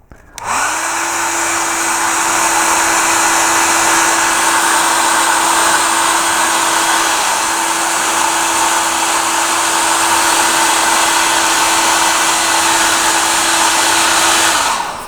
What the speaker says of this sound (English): Then I warm it up with the hairdryer,